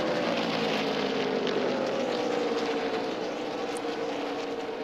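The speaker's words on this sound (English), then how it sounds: "That's not how an engine's supposed to sound." A NASCAR race car at the 2012 O'Reilly Auto Parts 300 with a failing engine, heard as a steady, loud, rough mechanical roar that sags slightly toward the end, with no talk over it.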